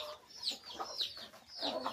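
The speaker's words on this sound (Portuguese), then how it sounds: "tem até uma galinha dentro do comedor" Free-range chickens in a coop give soft, repeated clucks and short rising calls at a modest distance, several in quick succession with no talking.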